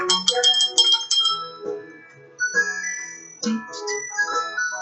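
Bright chiming bell tones ring out in a quick cluster, pause, then return in a few more struck, ringing hits with harmonic overtones.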